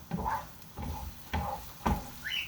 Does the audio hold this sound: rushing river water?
no